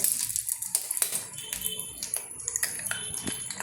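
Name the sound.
egg being cracked onto a banana leaf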